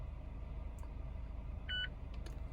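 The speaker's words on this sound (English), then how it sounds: "you'll hear a beep" A Mazda CX-5 radar cruise control gives a single short electronic beep inside the cabin, set against a low steady road rumble.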